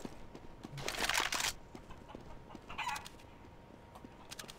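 Chicken clucks from the video game CS:GO, two bursts of clucking with quiet game ambience between them and faint clicks, no talk.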